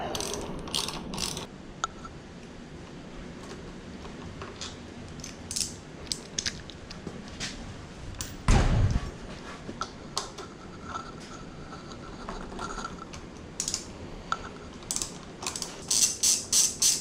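A ratchet wrench tightens the handlebar clamp bolts on a Honda Rebel 500, with rapid clicking bursts close up, repeated across the span with short pauses and one heavier clunk midway.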